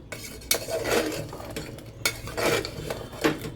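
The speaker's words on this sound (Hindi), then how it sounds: "अब हम इसको थोड़ा सा भून लेंगे मसालों के साथ" Pans and utensils clatter and scrape as chicken is fried and stirred with spices over medium heat, with a faint sizzle underneath; several sharp metallic knocks punctuate the steady cooking noise.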